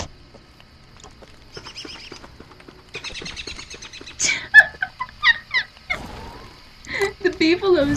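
Beefalo and birds from the video game Don't Starve sound off as scattered chirps and squawks over a quiet ambient bed, growing louder with a burst of flapping and clustered calls toward the end.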